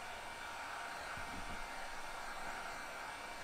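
A hot air blower running on low heat to warm leather Thorogood work boots before applying Sno-Seal, giving a steady, close, continuous whooshing hiss with no break and no talking.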